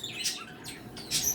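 Small birds in an indoor mixed-species bird room chirp in two or three quick, bright bursts over a soft ambient hiss, close and moderately loud.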